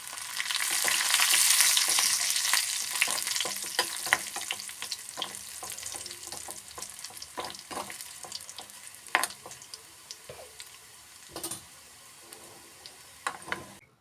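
Onions and curry leaves fry in hot oil for a drumstick and dried shrimp curry, with a dense, loud sizzle at first that thins into scattered crackles and sharp pops, close by and with no talking.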